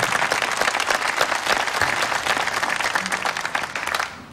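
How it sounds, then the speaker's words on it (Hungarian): Big burst of crowd applause from a live comedy show audience, dense and loud clapping held steadily for about four seconds before tapering off at the end. "Jó, egy nagy tapsot."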